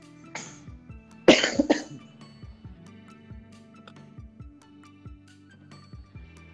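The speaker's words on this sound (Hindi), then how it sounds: "खांसी आ गई।" A sudden burst of coughing, two or three harsh coughs close to the mic, interrupting a casual indoor live chat with faint background hum.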